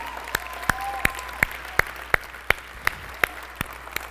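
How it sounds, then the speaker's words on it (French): Church congregation clapping during a service, heard as sharp, evenly spaced claps in a steady rhythm, about a dozen beats over a quiet room with a faint hum behind. "Et ça, vraiment, je veux vous applaudir maintenant."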